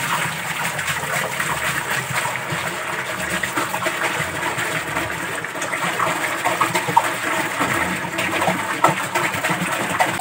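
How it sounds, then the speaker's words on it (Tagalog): Water is poured steadily from a container into a home aquarium, giving a continuous gushing, splashing rush that stays loud and even throughout, with no talk. "So, ayan, ilalagay na yung tubig nila."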